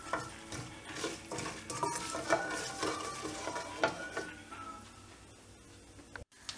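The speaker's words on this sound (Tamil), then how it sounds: "இது லைட்டாக ஃப்ரை பண்ணிடணும்." Oil for a South Indian brinjal kulambu being lightly fried and stirred in a pan, with a soft sizzle under repeated scraping strokes of a spoon against metal, fairly quiet and close.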